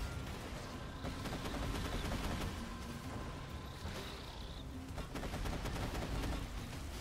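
Rapid, continuous gunfire from the Roguelands video game, a dense stream of shots fired in random directions, steady and loud throughout with no talking.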